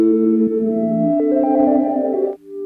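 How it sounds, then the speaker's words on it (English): Four samples from a Squarp Rample sampler module play together as layered, sustained synthetic tones. The pitch steps up partway through and the sound cuts off sharply near the end. It is loud and clear, with no talking. "what you're hearing right now is four samples coming out of the squarp rample."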